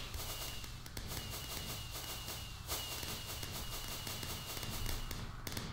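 Fireworks pop and crackle in a Minecraft Hunger Games minigame, a rapid repeated string of small bursts running continuously at moderate loudness with no talk.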